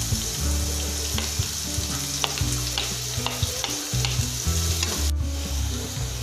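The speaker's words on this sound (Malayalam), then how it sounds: "എണ്ണ ഒന്ന് ചൂടായി വരട്ടെ. നമുക്കിതിലോട്ട് ഉള്ളി കട്ട് ചെയ്ത് ഇട്ട് കൊടുക്കാം." Chopped onions hit hot oil in a pan and fry with a loud, close, crackling sizzle, punctuated by rhythmic stirring scrapes, before the sound briefly drops near the end.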